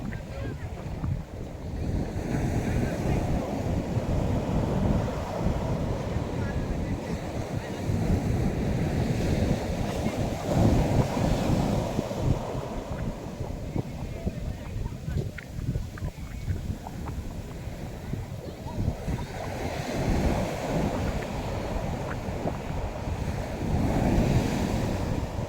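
Ocean waves roll in and break on the shore in repeated surging swells, loud and close, with heavy wind buffeting the microphone throughout.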